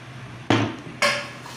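A spoon mashes custard apple (ramphal) pulp in a bowl to separate the seeds, giving two sharp, close knocks about half a second apart, each trailing off into a soft scrape.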